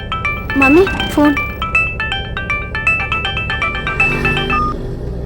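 A phone ringtone plays a bright, repeating electronic melody of beeping tones, fairly loud and near, with voices speaking over it.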